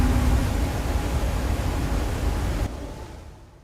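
Rushing river rapids pour over a waterfall in a World War I film, a loud, dense, continuous roar that drops in level near the end, with no voices.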